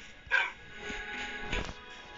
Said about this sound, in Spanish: ¿Cómo llegaron mis perritos acá?